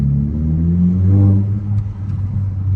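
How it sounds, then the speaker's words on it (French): A VW Golf 6 R engine in sport mode rumbles loudly from inside the cabin, its pitch stepping and swelling as the gearbox drops through gears on its own. "en boîte sport, elle rétrograde toute seule, elle descend vachement les rapports"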